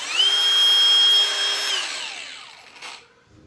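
Ridgid 4 1/2 inch battery angle grinder spinning up to a high, steady whine for under two seconds, then winding down as it coasts to a stop.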